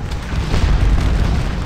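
Musket and artillery fire rolls across a Scourge of War: Waterloo battlefield, a continuous deep rumble of distant booms and bursts with no clear single shots.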